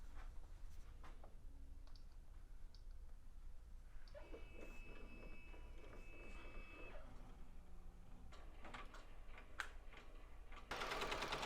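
An embroidery machine stitches steadily through a thread tension test, a continuous mechanical whirring and rapid needle patter at close range with occasional clicks, running alone throughout.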